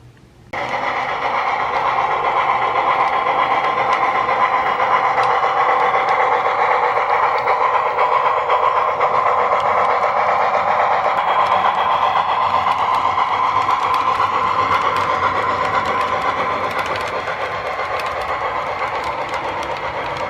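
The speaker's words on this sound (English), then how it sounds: "the excursion train as it roars by" An excursion train roars steadily past a stopped New Jersey Transit train in Gloucester, a loud, continuous rumble with rail clatter that rises abruptly and holds near for the whole stretch, easing slightly toward the end.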